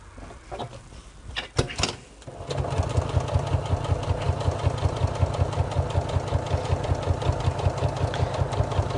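A domestic sewing machine stitches rows on fabric for a tool wallet. Its fast, even mechanical pulsing is close and continuous after a few faint handling clicks and knocks.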